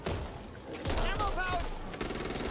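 Shotgun hip fire in Back 4 Blood: several loud, punchy blasts spaced through a short stretch of busy co-op combat, with game voices and talk mixed in.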